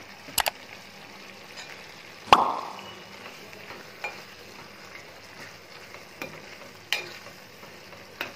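Curry leaves and chopped coriander go into a tomato, cashew and drumstick curry frying over medium heat, giving a soft sizzle with a sharp clatter of a spoon against the pan and scattered stirring knocks.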